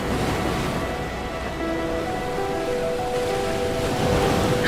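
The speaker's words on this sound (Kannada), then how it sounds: "ಅಲೆಗಳ ಸದ್ದು" Sea waves wash onto a beach in a continuous soft hiss of surf, even and moderately loud, swelling slightly toward the end with no voices.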